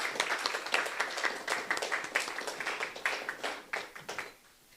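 A small audience at a Rohini business forum claps in a quick, uneven patter of distinct hand strikes, moderately loud, then dies away abruptly in the last half second.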